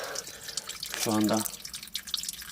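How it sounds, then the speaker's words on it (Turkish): Water dripping from a hand-dug, drill-free water source in open land, with a soft, steady patter while someone speaks briefly over it. "Hatta damlama su diyorlar da bu suya."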